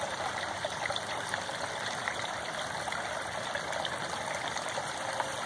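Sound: pond bubbling rock spitting water

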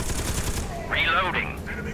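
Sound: turret gunfire in Scourge Outbreak video game

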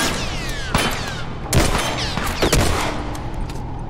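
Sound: gunshot headshot in The Last of Us: Left Behind video game

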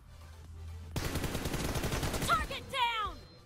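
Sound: gunfire in a mobile shooter video game

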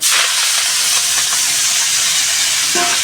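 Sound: chopped leaves poured into hot oil, sizzling

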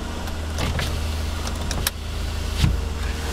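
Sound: power windows of a 2010 Chevrolet Impala operating

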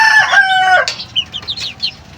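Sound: chickens, hens clucking

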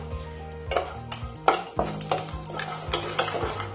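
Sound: lentil dumplings (bori) frying and stirred in mustard oil

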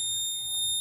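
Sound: smart helmet engine-lock alarm buzzing

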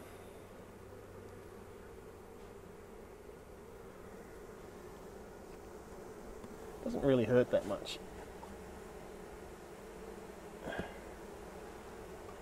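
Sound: honey bees buzzing around a backyard beehive

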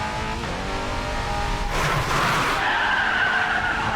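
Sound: Bugatti Centodieci accelerating at full throttle in Racing Master video game

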